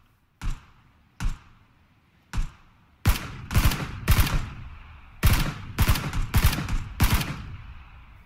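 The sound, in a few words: gunshots in the video game PlayerUnknown's Battlegrounds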